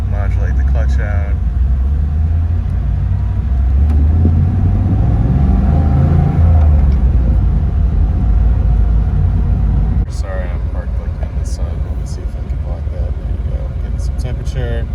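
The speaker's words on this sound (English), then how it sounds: "Exhaust actually sounds pretty awesome on this car." Camaro Z28 with a six-speed manual pulling away on a snowy, icy parking lot, its low engine and exhaust rumble steady and close throughout, rising slightly in revs mid-clip.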